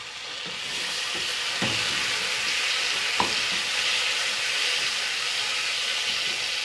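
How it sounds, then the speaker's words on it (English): Ginger garlic sizzles steadily in hot oil with onions in a pan while cooking coconut milk rice, a constant close frying hiss broken by a few light stirring clacks. "Now I'm adding ginger garlic and let it fry for 2 more minutes."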